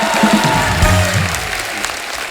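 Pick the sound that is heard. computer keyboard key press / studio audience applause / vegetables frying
studio audience applause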